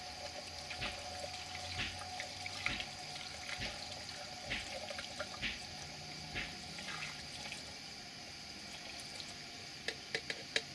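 Gasoline pours from a measuring cup into a generator's tank, a steady trickling liquid stream close by with a few small splashes and clinks, no talking.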